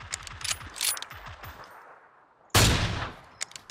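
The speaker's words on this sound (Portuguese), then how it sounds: "Três tiros pra matar um cara." Gunfire in the video game PUBG, a series of sharp mechanical clicks and shots followed by one loud, close blast that slowly decays.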